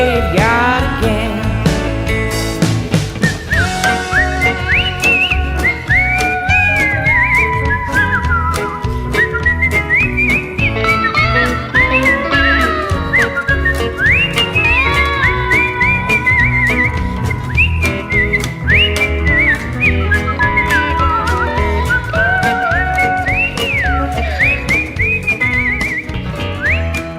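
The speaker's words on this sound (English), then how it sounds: "taking us out with some fancy whistling" A bright, agile whistling carries the melody over a steady band with drums, trilling and sliding between notes in a lively, ornamented style.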